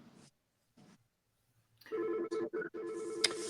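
A landline telephone rings close by in a room: brief faint murmurs, a pause, then loud tonal ring bursts in quick succession that carry on to the end.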